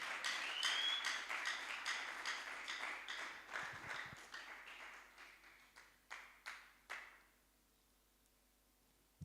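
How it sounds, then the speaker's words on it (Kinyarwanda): Audience applause at an air force ministry leadership gathering: a burst of clapping that thins into a few scattered, spaced claps before fading to near silence, fairly faint and distant. "Tumwongera amashyi menshi arimo gutambuka."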